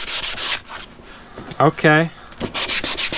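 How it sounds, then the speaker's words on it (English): Sheets of 220 grit sandpaper rubbing over a motorcycle's rough plastic body panel, giving rhythmic back-and-forth scratchy strokes close to the mic. The sanding pauses partway while someone says a word, then starts again. "I'm gonna try out some 220 grit sandpaper just to see what it does to this plastic."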